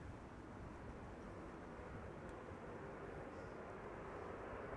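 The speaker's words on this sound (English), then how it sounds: "This would be KLM flight 936 returning from Glasgow in Scotland, 737-800" A KLM Boeing 737-800 returning from Glasgow lands at Schiphol airport, heard as a faint, steady, distant jet roar that stays even throughout.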